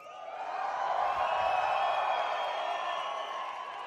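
Esports crowd at the Gears 5 Mexico City Major grand final roaring and cheering, a dense sustained wall of voices from a large arena audience that swells and holds for several seconds.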